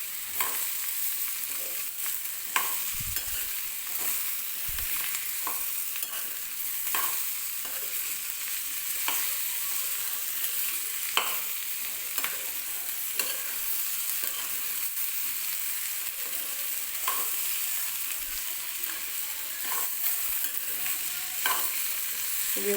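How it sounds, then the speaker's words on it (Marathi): Cut potatoes for batata bhaji stirred and frying in a pan, a steady soft sizzle broken by repeated scraping clicks of the spoon, close and fairly even throughout. "बटाटा टाकल्यानंतर हे व्यवस्थित मिक्स करून घ्यायचं."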